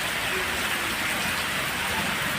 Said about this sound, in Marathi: सर्वत्र पावसाने धो बरसायला सुरुवात केली आहे